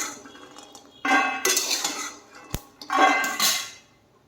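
Fried peanuts scooped out of a hot wok with a metal spatula, giving a few close scraping, rattling strokes and one sharp clink against the pan.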